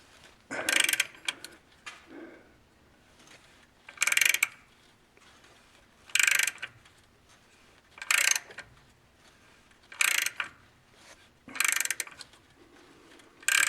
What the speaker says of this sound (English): So I'm not going to waste your time watching me back a bolt out like that, but it's coming out.